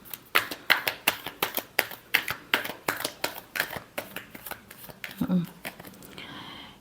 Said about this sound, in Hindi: Last shuffle. सॉरी, एक बार और करना पड़ेगा।